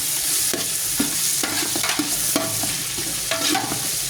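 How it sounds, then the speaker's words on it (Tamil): Ingredients for fish head gravy are stirred in a pot, with rhythmic close scraping strokes about every half second over a steady frying sizzle, no talk. "ஓகே, லைட்டாக ஒரு கிண்டு."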